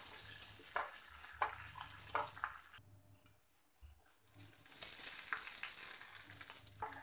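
Hot tempering of oil and spices sizzles and crackles as it is poured into Punjabi-style dahi kadhi, loud bursts that drop away briefly midway and then return.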